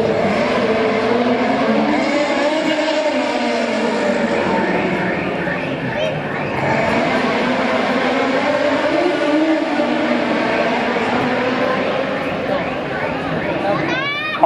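A racing car at a street motorsport event roars past with the engine note rising and falling through revs, while people talk underneath it.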